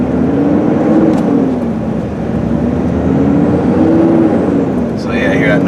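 A 3rd-gen Cummins diesel truck with a six-speed manual and dual rear wheels drives under load with a steady engine drone and a rising, whistling turbo spool, with the silencer ring and baffling removed; a person talks over it.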